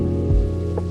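Steady rain falling outside in the Necrobarista game, a continuous wash of patter with a low hum and two brief soft bumps, no voices over it.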